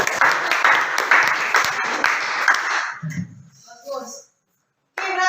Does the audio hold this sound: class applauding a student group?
yes